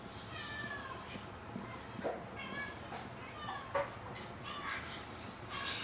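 Several cats meow repeatedly nearby in a home kitchen while a beef and barley dish cooks, their overlapping plaintive cries rising over steady background noise and a voice talking.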